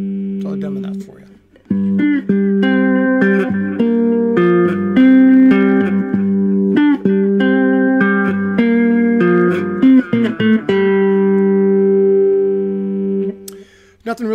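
A three-string cigar box guitar is played with a slide on a riff, loud plucked notes repeating in a steady pattern with sliding pitch, close and clear, ending on a held note.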